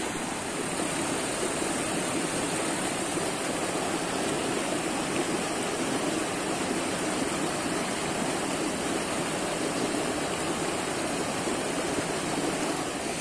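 A creek where jewelry and coins are hunted with a metal detector rushes and splashes steadily, a broad continuous close roar of flowing water without pauses or talk.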